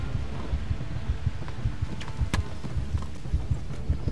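A horse gallops in the medieval video game Kingdom Come: Deliverance, its hoofbeats thudding in a steady, rapid rhythm under continuous wind and rushing ambience. A few faint sharp accents stand out along the way.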